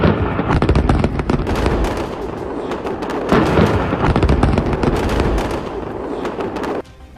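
Airstrikes hitting Beirut set off a rapid series of loud, cracking explosions with echoing rumbles, bursts crowding one another for several seconds before the sound cuts off near the end.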